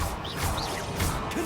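Accio and Leviosa spells cast in the Hogwarts Legacy video game, short magical swishes and rising chimes over a steady dense game soundscape, with a brief whoosh near the end.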